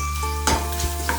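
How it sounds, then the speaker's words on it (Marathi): Chili powder hits hot oil with fried whole garlic in a pan and sizzles, with a metallic stir or scrape partway through and a soft crackle under a low steady background hum. "आता आपण याच्यामध्ये राहिलेलं तिखट टाकणार आहोत।"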